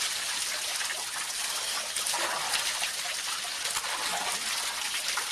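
Water poured steadily over a person's head while bathing, a continuous close splashing trickle with no pauses.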